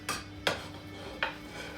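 Cooled choux pastry dough for chocolate eclairs goes back into a pot, with three sharp metallic clinks of utensil against pot over a quiet background.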